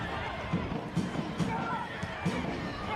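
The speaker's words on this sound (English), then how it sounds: "Crowd didn't like it." A stadium crowd at a Sacramento Republic FC versus Las Vegas Lights FC soccer match murmurs and jeers in displeasure after a foul, a diffuse distant roar with a few thumps, under a commentator's voice.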